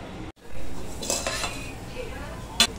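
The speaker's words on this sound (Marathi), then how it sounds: "हे थोडंसं अलगद हलवून घेऊया, कारण ज्या भाज्या आहेत त्या सर्व ठिकाणी सारख्याच व्हायला पाहिजे" A spoon stirs vegetable pulao in a metal pot, giving a few short scraping clinks of utensil against the pot, close and fairly quiet, with one sharp clink near the end.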